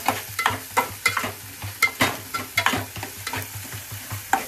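Spicy chicken liver frying in a pan, with a quick, regular rhythm of spatula scrapes and stirring strokes over a constant close sizzle, loud and without voices.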